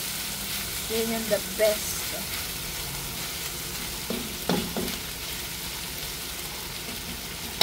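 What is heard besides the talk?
chicken browning and frying in a pan for tinola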